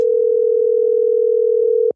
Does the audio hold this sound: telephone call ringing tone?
yes